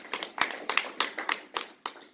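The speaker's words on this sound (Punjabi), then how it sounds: "ਆਓ ਵਸੀਏ ਤੇ ਆਪਣੇ ਆਪ ਦਾ ਸਵਾਗਤ ਕਰੋ ਜ਼ੋਰਦਾਰ ਤਾਲੀਆਂ ਨਾਲ" Scattered, sharp hand claps from an audience welcoming the host at the start of a live Punjabi laughter and comedy program, roughly eight distinct claps in an uneven rhythm, fairly close and clear.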